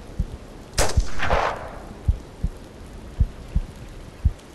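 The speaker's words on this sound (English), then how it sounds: "let's shoot him right in the head." A single sharp gunshot rings out in the video game Hunting Simulator as a hunter fires at an animal, with a trailing whoosh after it and faint rhythmic thumps spaced through the rest of the moment.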